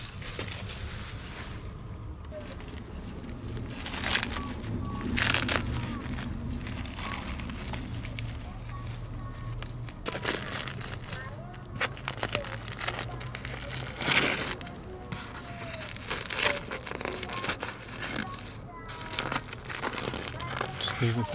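Plastic wrap is crinkled and peeled back in irregular crackling bursts, some loud and near, while people talk throughout.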